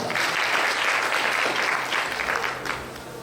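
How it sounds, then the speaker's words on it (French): Audience applause at a youth forum in Kankan on irregular immigration, honoring the event's organizers: a steady, dense wash of clapping from a crowd that holds loud and even before tapering slightly near the end, with no talking. "je vous demande d'applaudir les initiateurs de ce forum"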